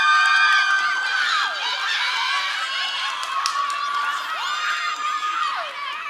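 Loud cheering and whooping from a large crowd at a pharmacy college commencement ceremony, sustained for several seconds with shrill individual shouts rising above the roar.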